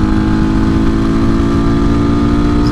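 A Kawasaki KLX250 dirt bike with a full aftermarket exhaust runs hard at high revs, its loud, close engine droning steadily under a sustained buzzing tone.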